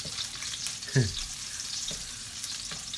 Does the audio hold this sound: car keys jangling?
no